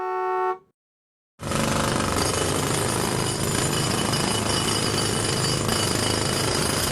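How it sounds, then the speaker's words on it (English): A road drill (jackhammer) pounds loud and continuous for several seconds after a short tone and a brief silence, its dense rapid hammering filling the whole clip with no voices. "A road drill."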